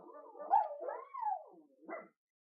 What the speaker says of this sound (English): There's so many dogs barking.